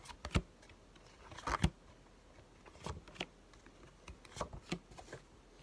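Tarot cards are riffled and shuffled in a few quick, soft bursts of papery flicking spread across a quiet stretch, close by and low in level, with no talk.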